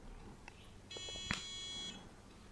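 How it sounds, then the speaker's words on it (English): A PowerVision PowerEgg X drone controller powers on with a single faint electronic beep tone lasting about a second, accompanied by a small click, in an otherwise quiet room. "And you hear that beeping."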